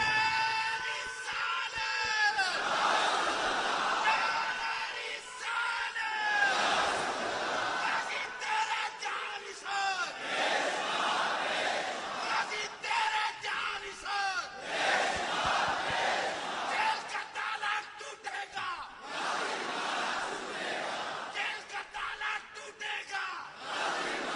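A large crowd at a religious speech shouts slogans in a repeated call-and-response rhythm, loud roaring bursts coming every few seconds with brief lulls between them.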